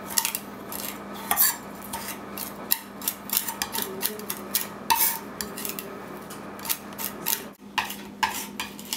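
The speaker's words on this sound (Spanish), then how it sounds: "La sal va a ser que deshaga el ajo más fácilmente con ayuda de cuchillo" Knife mashing garlic with coarse salt into a paste on a board, heard as repeated close scraping and tapping strokes in an uneven rhythm.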